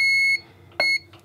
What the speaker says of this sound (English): wherever I touch on this, it's going to beep because we have full ground connection